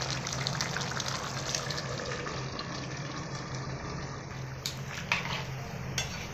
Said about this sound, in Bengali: ভালো করে কষে নেওয়ার পরে অল্প করে আপনারা জল দিবেন